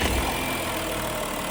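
A 2015 Audi Q7 diesel idles as a steady, even engine hum with a faint rattle, close and continuous. No one speaks.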